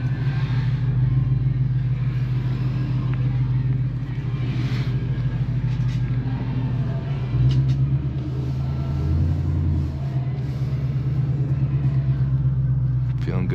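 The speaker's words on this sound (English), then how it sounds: "Let's just start driving." A car running a Lund E85 tune pulls away and drives, its low engine rumble steady and close throughout, with a brief rise in revs midway; someone talks over it.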